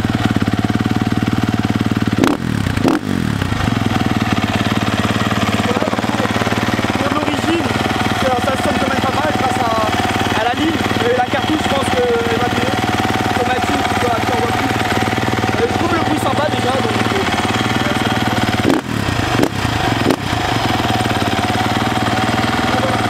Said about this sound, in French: Donc le moteur est en bonne santé, ça démarre, elle démarre au quart tour.